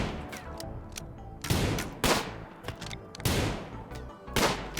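Gunfire in RimWorld Ideology: several scattered bursts of sharp shots, some louder and heavier, separated by short quieter gaps, with no speech.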